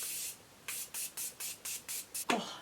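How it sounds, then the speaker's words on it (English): Quick pump bursts of Morphe setting spray misted onto a face, seven short even hisses in a steady rhythm, close and alone, ending in a brief louder rustle. "Then I'm going to set my face with a little bit of Morphe setting spray."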